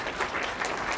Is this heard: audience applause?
yes